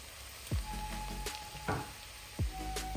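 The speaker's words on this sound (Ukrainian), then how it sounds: "Поки смажиться цибуля" A continuous soft sizzle of onions frying in a pan, with occasional sharp clinks and taps of a utensil against the pan.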